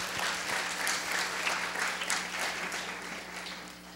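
Congregation at a church revival service applauds together, a steady, moderately quiet wash of clapping lasting a few seconds with a low hum underneath.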